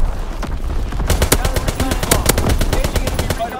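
Dense, loud automatic gunfire in the World War II shooter game Call of Duty: WWII, sustained rapid bursts with a steady rattle throughout and no pause.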